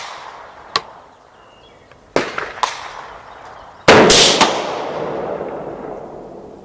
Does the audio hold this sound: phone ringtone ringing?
no